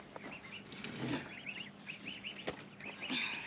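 Ducks quack softly in a garden in short repeated calls, faint and a little distant, with light rustling and a sharp knock partway through.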